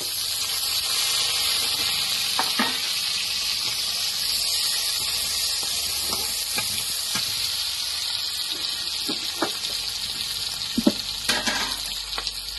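Steady, close sizzling of onions frying in hot oil already used to fry fish, a constant crackling hiss with occasional sharper pops and light scraping, no voices.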